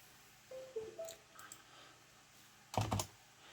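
A few scattered keyboard taps, quiet and sparse, ending in a short louder burst of keystrokes.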